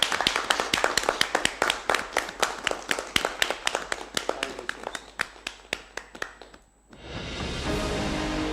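A small group claps steadily in brisk rhythm at a celebration marking a newspaper's thirteenth anniversary, ending abruptly as a louder burst of broadband noise takes over.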